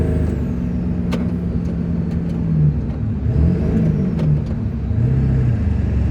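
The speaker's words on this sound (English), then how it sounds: "why is my truck not shifting?" A work truck's engine labours and revs unevenly as it struggles to shift gears, a steady loud drone with rising and falling pitch swells and occasional clunks, close by with no talk.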